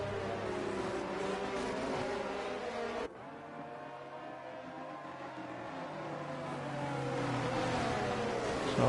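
F1 cars at Monza on tyre-warming laps before a restart, a quiet, continuous engine drone with shifting pitch that drops suddenly, then builds again as the cars speed up.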